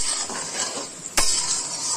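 Capsicum fries for fried rice in a pan, a steady sizzle with one sharp clack of the spatula against the pan midway as it is stirred, close and fairly loud.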